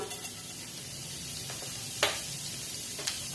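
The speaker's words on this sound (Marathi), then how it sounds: "तेल गरम झालेलं आहे जिरं टाकून घेऊया" Cumin seeds crackle in three tablespoons of hot oil in a pan on the gas, a steady close sizzle with a few sharp pops.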